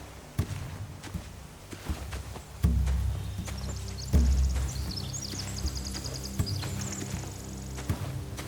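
Horses in The Walking Dead: The Final Season clop and thump on the ground nearby in irregular hoof beats, with soft low rumbles and light background sounds.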